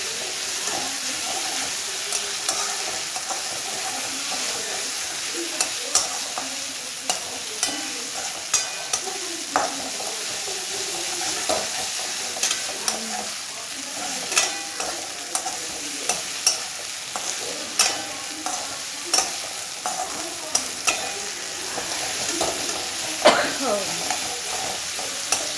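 Masala for chicken curry sizzling and frying in a pan with a splash of added water, a steady hiss broken by repeated scraping clicks of a spoon stirring against the pan bottom, close and continuous with no talk.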